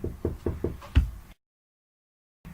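Four quick knocks on a door followed by a heavier fifth rap, close and sharp, then silence and a faint return of sound.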